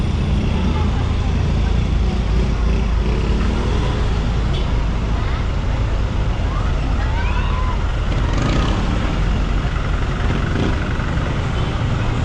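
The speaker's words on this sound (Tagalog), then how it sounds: "traffic na kahit anong oras" Constant city street traffic near a university campus in the Philippines, a loud, dense rumble of passing cars, buses and trucks with a voice faintly under the roadway noise throughout.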